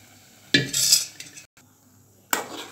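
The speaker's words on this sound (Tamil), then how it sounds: "நல்லா கலந்துக்கிட்டே இருக்கணும்," A spoon clinks and scrapes against a pot while ragi flour batter is stirred into boiling water, in two short metallic bursts separated by near silence.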